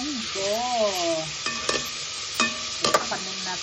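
Oil sizzles steadily in a pan while cooking for mung bean stew is sautéed toward golden brown. The hiss is even and close, broken by a few sharp utensil taps and faint whistling tones in the background.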